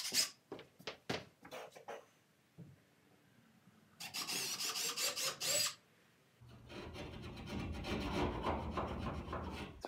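A drywall saw cuts outlet holes through a drywall sheet, close up. A few sharp taps come first, then two stretches of scratchy, rasping sawing.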